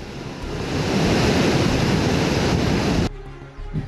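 Heavy torrent of water roaring through the five opened gates of the Chaskaman dam during monsoon downpours in Pune district, a loud steady broadband rush that cuts off abruptly near the end, leaving a quieter low rumble.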